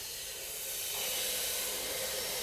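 Oil in an Ohlins front fork shock absorber on a Harley-Davidson Sportster 1200 hisses as the suspension is pressed down, a soft, brief airy hiss that swells slightly midway, close and alone.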